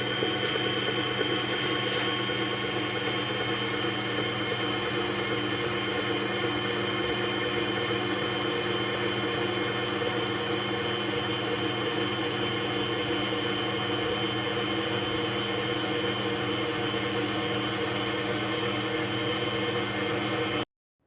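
An electric mixer beats sugar and milk into pandan cake batter, a continuous high whirring drone that holds steady and loud for about twenty seconds, with no speech.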